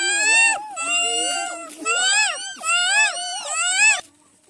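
A voice imitates a parrot with a run of shrill, squawking, rising and falling calls, about six of them in quick, uneven bursts. The calls are close and fairly loud, ending abruptly.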